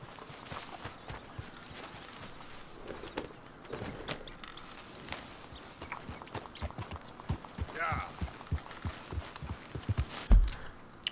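A horse's hooves clop along in Red Dead Redemption 2, a steady, quiet walking rhythm of soft thuds that runs throughout at low level, with a few louder knocks near the end.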